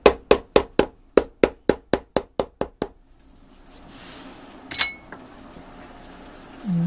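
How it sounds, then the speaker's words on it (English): Hammer striking a nail into an Alden shell, about ten sharp metallic blows in quick even succession, close and loud, followed by quiet shuffling and a brief clatter. "There's always got to be one stubborn nail that doesn't want to go in."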